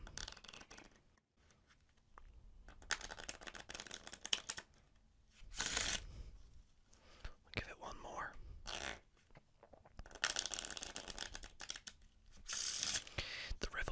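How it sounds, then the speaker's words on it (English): Playing cards being riffle shuffled close to the microphone, several bursts of rapid fluttering riffles and soft card handling, with quiet whispered talk between the shuffles. "my favorite shuffle is indeed the riffle shuffle"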